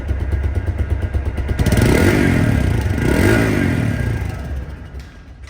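A TVS MAX 125cc motorcycle engine in showroom condition runs steadily up close, swelling louder twice in smooth surges before settling back to an idle.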